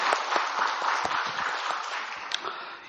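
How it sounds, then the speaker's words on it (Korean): A church congregation applauds together, a dense steady wash of clapping with a few sharper claps standing out, sustained at moderate loudness throughout. "영광의 박수 올리게 돌리십시다."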